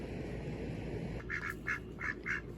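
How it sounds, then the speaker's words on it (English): Black and white Campbell ducks quack several times in short bursts over steady outdoor background noise, moderately close. "These are Campbell ducks, black and white Campbells."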